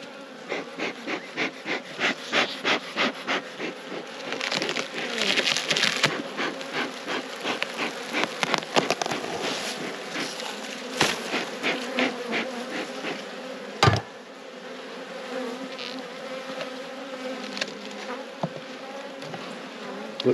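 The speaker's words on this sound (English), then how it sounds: "I can already hear there's an enormous amount of bees." A dense, steady buzzing of many honey bees at a hive fills the air close by, with occasional sharp knocks and taps over the continuous drone.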